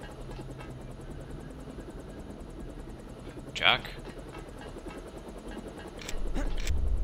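A helicopter in the video game Deus Ex hums as a steady engine drone through the whole stretch, with a sharp tonal sound briefly standing out midway. Someone speaks once, and the noise grows louder at the end.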